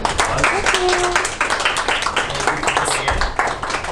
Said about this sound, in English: let's give Sravya a nice big round of applause.